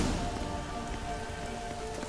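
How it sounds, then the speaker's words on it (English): Steady rain falls in The Witcher 3: Wild Hunt, a dense continuous patter with a faint hint of distant thunder underneath, with no voices. "I like rain."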